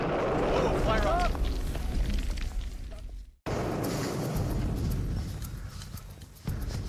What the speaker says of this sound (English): The controlled detonation reduces a layer of hard rock to rubble.